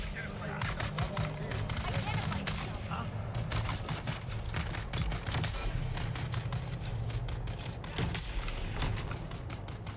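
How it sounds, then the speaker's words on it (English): Rapid gunfire from the video game Dune: Awakening, a dense run of sharp shots that carries on steadily throughout, layered over a constant low rumble and loud game ambience, with voices talking now and then. "I'm gonna shoot them."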